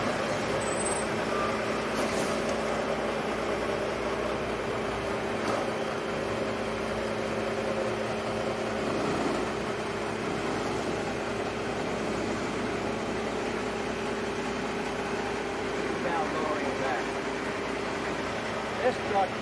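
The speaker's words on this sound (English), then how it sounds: "This truck here is equipped with a crane." A crane-equipped truck's engine idles steadily throughout, a continuous low hum with a constant drone and faint mechanical noise in the background.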